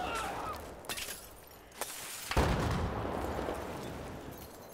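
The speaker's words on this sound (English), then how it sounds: "Let me throw a grenade over there." A grenade blast in Battlefield 4 multiplayer lands as a sharp broadband boom about midway, its rumbling tail filling the rest of the clip, with earlier distant gunshot cracks layered over game noise.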